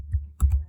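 Computer keyboard keys being typed into a Windows search box, a couple of quick close taps within a brief, quiet moment.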